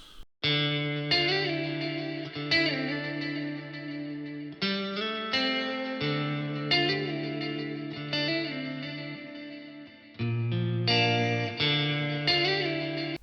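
A clean electric guitar plays a simple sustained melody drenched in delay, notes repeating and overlapping in a steady pulse, with no voices.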